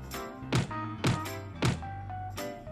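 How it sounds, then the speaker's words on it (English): Three firm knocks on a wooden door, evenly spaced about half a second apart, each a close, solid thump with a short ring afterward, over a faint sustained musical background. "The wolf knocked at the door of the first little pig."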